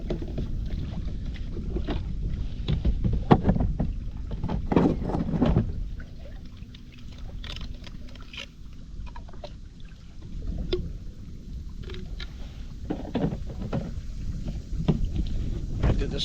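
A Sea-Doo personal watercraft rides across open water on a long trip, its engine and hull slapping through chop amid gusty wind noise, the intensity easing in the middle before building again.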